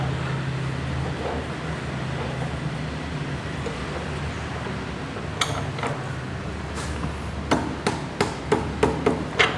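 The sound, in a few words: hammer tapping a workpiece clamped in a milling vise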